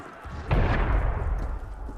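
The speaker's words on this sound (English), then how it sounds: "That was cannon fire." Cannon fire in the video game Assassin's Creed Unity, a single heavy boom with a deep rumbling tail fading over a couple of seconds, close and loud with no talk.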